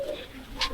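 A pigeon at a duck farm in Panabo gives a short, soft coo, close by over faint outdoor background noise.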